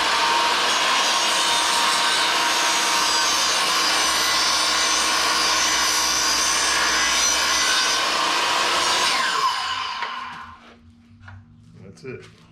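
A saw blade slowly plunge-cuts through an 8020 aluminum extrusion for a Ram Promaster 3500 bed frame, a loud steady grinding screech lasting about ten seconds before winding down and stopping.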